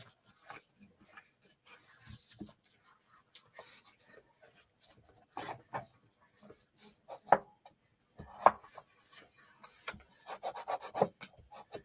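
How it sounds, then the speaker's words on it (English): Someone burnishes a surface by rubbing, producing scattered short scraping and rubbing strokes, faint and close, growing busier and more frequent toward the end, with no talking. "Burnishing everything really good."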